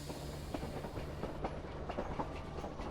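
A train starting to move in a storybook scene, with a steady low rumble and a series of soft rhythmic clicks from the wheels, moderately loud and alone without talk.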